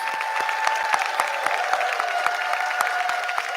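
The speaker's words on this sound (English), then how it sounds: "One more round of applause for our students." An audience applauds steadily at a physical therapy white coat ceremony, with dense, continuous clapping that holds at an even level throughout.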